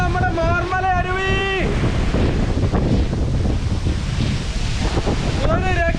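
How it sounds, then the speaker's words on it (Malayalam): Roaring Marmala Aruvi waterfall in Kerala, a steady broadband rush of falling water and mist close to the microphone, with wind buffeting; a voice speaks briefly at the start and again near the end. "ഇതാണ് നമ്മുടെ മാർമല അരുവി"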